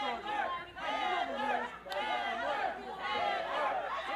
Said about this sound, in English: And the crowd trying to get behind Heather Monroe